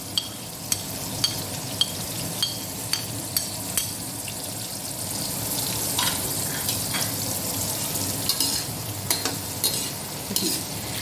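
Cumin seeds frying with onions in a pan, a continuous sizzle under repeated sharp clicks and scrapes of a utensil stirring against the pan.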